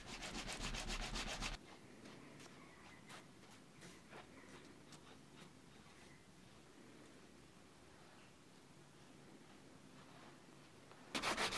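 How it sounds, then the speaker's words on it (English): Edges of leather tote bag straps and a logo tab being stained and polished by hand, a steady soft rubbing and burnishing texture with light scratchy strokes, close and fairly quiet, with a louder burst at the start and end. "we're just going to stain and polish the edges of our straps and the logo tab."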